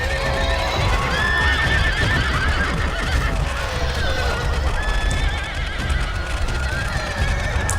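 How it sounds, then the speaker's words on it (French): Horses neigh and whinny in a Medieval II: Total War battle, several shrill calls overlapping above a continuous din of hooves and fighting, loud and busy throughout. "il y a beaucoup de beaux chevaux qui meurent là"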